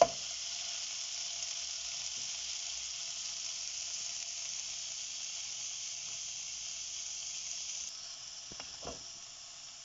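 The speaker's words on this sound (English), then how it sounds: "we need to just stir it" A steady soft sizzle hisses from a pan of sweet corn masala curry with tomatoes and almonds, near and even throughout, with a couple of faint stirring knocks toward the end.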